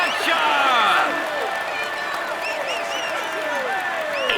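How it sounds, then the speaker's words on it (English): A roadside crowd at a Tour de France stage claps and cheers for a cyclist, dense loud applause mixed with whistles and shouts that peaks early and then carries on steadily. "Come on, let's applaud him."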